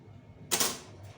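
A single burst of typewriter keystrokes, a brief clattering strike followed by a fainter second tap, close and fairly quiet against a low background hum.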